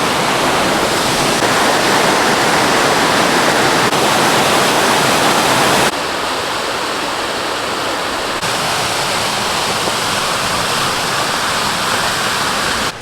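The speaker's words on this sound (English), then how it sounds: "These are really gorgeous waterfalls." Obsidian Falls on the Pacific Crest Trail in Oregon roars as a loud, continuous rush of falling water close by, with a slight drop in level partway through and no voices.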